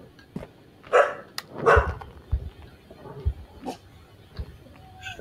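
A dog barks indoors in a kitchen at night, several sharp, loud barks spread across the moment with short gaps between them, some whimpering tones mixed in, alone without talk.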